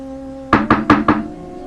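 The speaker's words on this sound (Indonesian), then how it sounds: "Tiba-tiba sesuatu mengetuk kaca jendela mobilnya." Four quick, sharp knocks rap on a car's window glass, close and loud after a quiet hum, evenly spaced in a short burst.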